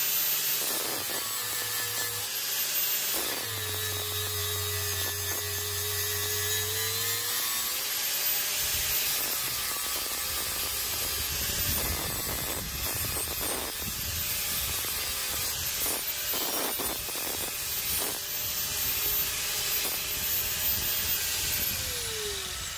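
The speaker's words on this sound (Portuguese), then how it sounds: "o desbaste de solda, o desbaste de ferro" A Bosch GWS 9-125 S angle grinder grinds down weld and iron, a loud continuous abrasive whine with shifting pitch and a steady, close, harsh roar throughout, pausing briefly near the start.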